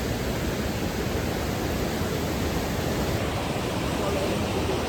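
Vazhachal waterfall roaring in a dense, unbroken wash of rushing water, loud and constant throughout with no distinct breaks or voices.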